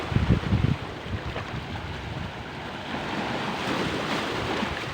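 Sea waves washing onto a seashore, a steady broad roar of surf with some wind buffeting the microphone and a rougher rumble at the start, continuous and fairly loud.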